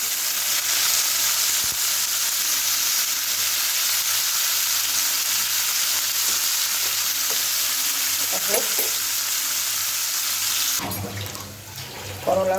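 Bitter gourd (karela) pieces fry in hot oil with a loud, dense, continuous close sizzle, followed near the end by running water and a few clatters.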